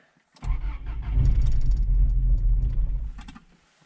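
A 1999 Subaru Outback engine, just fitted with an aftermarket EFI system, cranks and catches, running loud and close for about three seconds with a rough, steady roar before cutting out.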